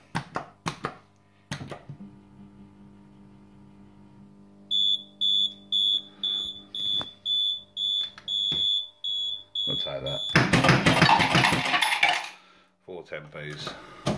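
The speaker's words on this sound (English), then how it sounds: "it has two separate buzzers, two separate noise buzzers, one for the gamble and one for the pontoon" A run of regular electronic beeps, high and bright, from a 21UP gambling machine buzzer pulses about a dozen times, followed by a burst of clattering noise, with faint voices in the background.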